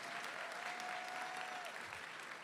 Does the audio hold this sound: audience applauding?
yes